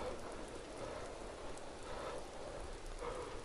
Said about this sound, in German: draußen regnet es